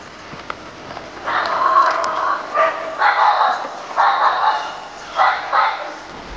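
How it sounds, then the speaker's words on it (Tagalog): Several dogs bark and yip outdoors in hilly countryside, a string of repeated mid-distance barks in uneven bursts, fairly loud, over faint background noise. "May mga aso pati doon."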